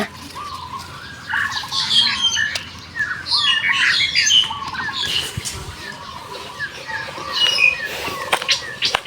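Morning birdsong in a rural garden home with fruiting ebony trees, many birds chirping and squawking in overlapping bursts close by, with faint background sounds throughout.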